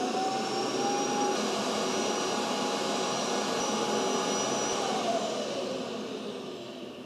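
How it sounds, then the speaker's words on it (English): A robot vacuum cleaner runs with a steady, loud whirring hum and faint whining tones, continuous for several seconds indoors before easing off slightly at the end, with no talking. "that was the robot vacuum"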